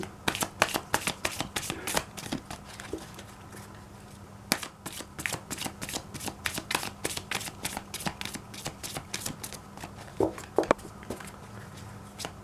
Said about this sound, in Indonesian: Oke, sekarang kita shuffle kartunya terlebih dahulu.